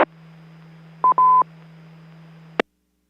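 Telephone dialing tones on a ham radio phone patch: a steady line tone, a quick pair of keypad tone bursts midway, then a sharp click as the line cuts off.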